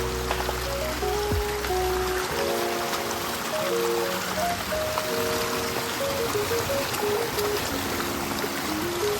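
Water streams steadily along a rocky trail close to a waterfall in the Sahyadri hills, a continuous rushing wash with a few brief tonal sounds near the start.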